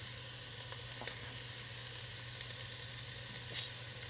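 Chopped onions sweat in a 4 to 6 quart saucepan over medium heat, giving a steady, soft sizzle and crackle with a few faint pops throughout.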